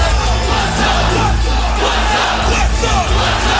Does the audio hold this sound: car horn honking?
no